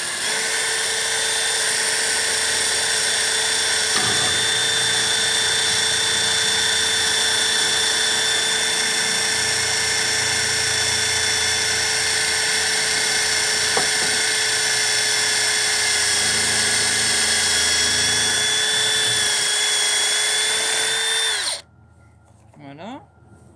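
A power drill bores steadily with a bit while building a garden vegetable planter, a loud continuous whine with a couple of brief dips, ending abruptly near the close with a short clatter.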